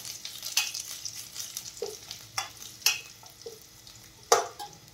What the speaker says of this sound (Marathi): कांदा छान सोनेरी रंग येईपर्यंत तळू द्यायचा आहे।